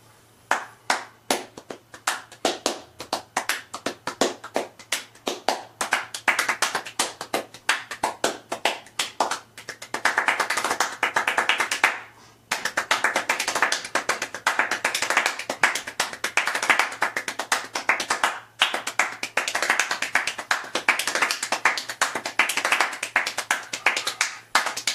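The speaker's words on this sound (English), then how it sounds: "First part is a warm-up, and then the second part gets into the ultra-fast, extreme, super-fast clapping." Hand clapping, first at a warm-up pace and then ultra-fast, packed into dense, loud rapid bursts with a few brief pauses, close and alone with no talk.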